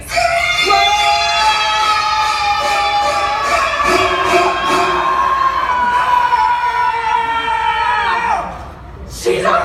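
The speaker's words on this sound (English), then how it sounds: "You're gonna scream on the count of 3" An audience at a theme-park special effects show screams together on cue, a dense, loud burst of many voices sustained for several seconds before breaking off abruptly.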